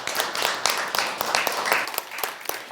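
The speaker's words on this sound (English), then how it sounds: "Big round of applause for all those comments." An audience at a live body language stage show claps in a brief round of applause, scattered sharp claps overlapping in an irregular patter.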